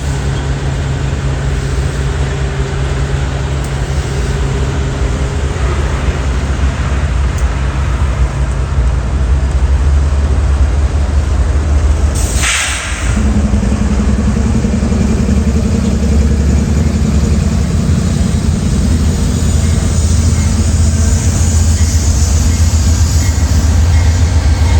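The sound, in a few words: Union Pacific locomotive 7775 moving into Roseville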